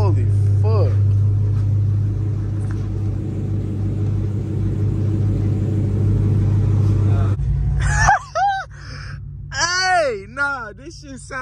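A Dodge Hellcat with a newly repaired exhaust rumbles loudly and steadily, a deep continuous drone that runs for about seven seconds before cutting off, followed by excited voices talking close by.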